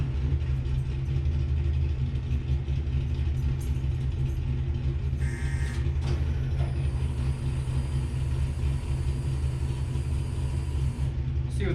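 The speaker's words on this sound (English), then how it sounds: "Now we'll see how the Camaro cold starts." A Chevrolet Camaro engine, cold and unstarted for about a month, runs at a steady, loud idle with a deep continuous rumble and faint mechanical clatter throughout. Brief voices are heard underneath.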